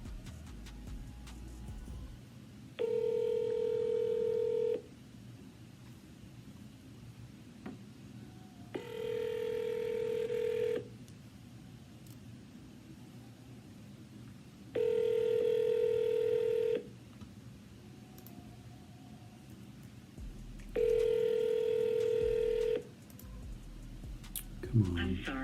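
A phone call rings back over speakerphone in a steady pattern, four long ringback tones of about two seconds each with gaps between them, under faint room noise and a few small handling sounds.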